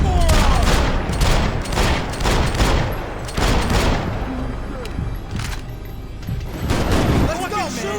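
Dense gunfire in a shootout in the video game Max Payne 3, with rapid overlapping shots and booms hammering steadily throughout while voices shout over the battle.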